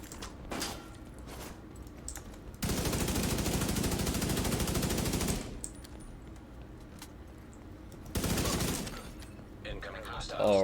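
Carbine gunfire in The Division 2, a sustained automatic burst lasting a few seconds, then a quieter stretch and a second shorter burst, heard up close with game sounds and a voice in the background.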